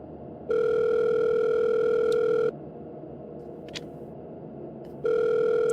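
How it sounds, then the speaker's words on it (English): A steady telephone dial tone from the video game Dead Secret Circle sounds twice: a loud, even tone holds for about two seconds, gives way to a quieter pause with a faint click, then starts again at the end. "I guess I probably should have hung up the phone before I dialed something else."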